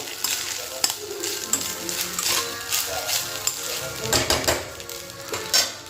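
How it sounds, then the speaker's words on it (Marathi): Cooked rice sizzles in oil tempered with cumin while a spoon stirs and scrapes the pan, giving irregular clinks and bursts of frying up close. "जे थोडेसे जिरे तेलाची फोडणी देऊन मस्तपैकी फ्राय केला आहे"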